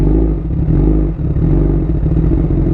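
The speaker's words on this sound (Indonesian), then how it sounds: "Oke, kita coba nyalain. Knalpotnya ini pakai Austin Racing." A Honda CBR1000 SP sport bike fitted with an Austin Racing exhaust idles and revs close by, giving a loud, steady, deep rumble with slight dips in the note.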